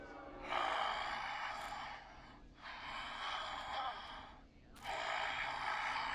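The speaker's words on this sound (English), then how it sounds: "Heavy breathing intensifies." A caller in the video game Killer Frequency breathes heavily down the line, with three long, raspy, close exhalations separated by brief pauses that sound like gasps and snorts.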